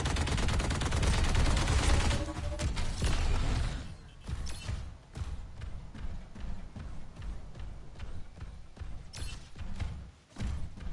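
Dense rapid gunfire from the Overwatch video game, a heavy continuous burst of shots for the first few seconds easing into sparser, lighter shots and mechanical clicks.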